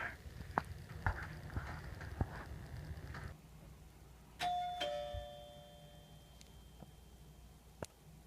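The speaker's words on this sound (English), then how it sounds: "And now they're ringing my doorbell right at my door." A doorbell chimes twice in quick succession, a bright ringing tone that lingers, heard indoors against a low background hum and scattered knocks.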